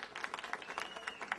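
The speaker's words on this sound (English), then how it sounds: "Please give them a round of applause" Scattered audience applause at an outdoor library branch reopening celebration, faint and distant, with irregular clap bursts rather than a full ovation.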